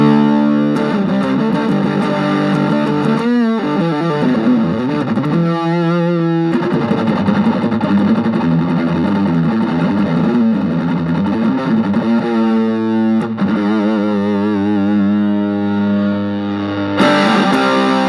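Loud, close electric guitar through an Okko Black Beast fuzz pedal, thick fuzzy chords and riffs ringing nearly nonstop with a few short rhythmic stabs.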